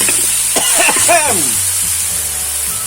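Canned fish hits hot oil in a pan for a Thai basil stir-fry, producing a loud, steady, close sizzle that fills the whole stretch, with a brief voice-like sound partway through.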